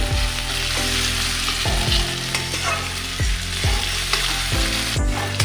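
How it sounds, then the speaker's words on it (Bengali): Rice fries in a pan for fish-head muri ghonto, sizzling steadily while a utensil scrapes and stirs in a loose rhythm of a few strokes, close and clear, with no one speaking. "চালটাও আমার ভাজা হয়ে গেছে।"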